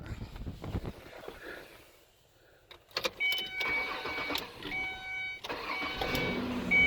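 A Ford Escape's engine cranks and catches after a shifter repair, a few sharp mechanical clicks followed by a rising, steady engine run that settles into a continuous idle.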